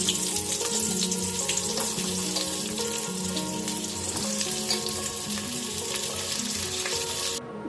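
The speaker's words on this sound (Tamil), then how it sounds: "இப்போ வெங்காயத்தை நல்லா வறுக்க போகிறோம்." Onions frying hard in a pan, producing a dense, loud, continuous sizzle close by with faint clinks underneath, unbroken until it cuts off abruptly at the end.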